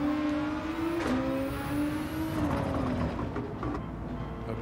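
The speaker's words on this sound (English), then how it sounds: "Changes gear." A GT race car in Gran Turismo 7: sustained loud engine drone whose pitch climbs, drops sharply at each gear change, then climbs again, close and continuous.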